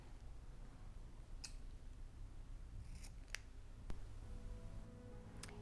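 Scissors snip knitting yarn in a quiet room, a few faint, sharp isolated clicks spaced out over near silence.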